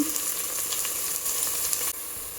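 Garlic and ginger pieces sizzle steadily in hot oil while frying, a dense close crackle that briefly drops lower near the end.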